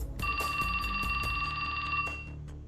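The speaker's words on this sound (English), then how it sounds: "His phone rang." A phone rings in the video game 428: Shibuya Scramble, a bright electronic bell tone holding steady for about two seconds over quiet background music, no speech.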